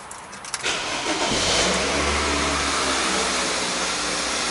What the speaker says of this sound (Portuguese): Enquanto ele vem ali, a gente vai ligar o carro.